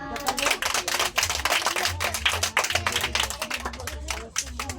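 Children and adults at a Christmas feeding-program party clap in a dense, steady patter, loud and close, with voices mixed in.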